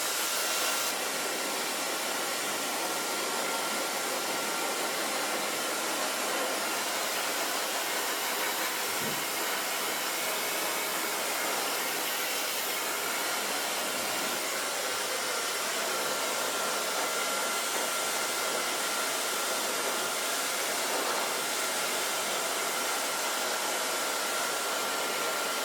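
A hair dryer blows steadily on someone's hair while it is dried and styled into a bob, a constant rushing hiss that holds for the whole stretch with no pauses.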